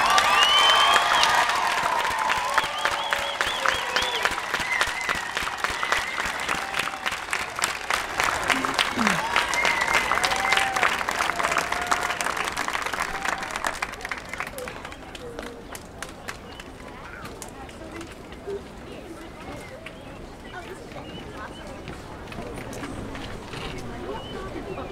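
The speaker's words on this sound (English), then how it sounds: "Let's give them another round of applause." Audience applause at an evening elementary school graduation and moving-up ceremony in Bronxville: dense, loud clapping from a large crowd for the first half, then fading to scattered claps and low room murmur.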